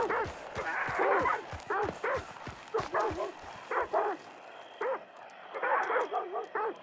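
Dogs in the video game Hunt: Showdown bark and yip in a steady run of repeated, fairly close barks, with a brief pause midway before the barking picks up again.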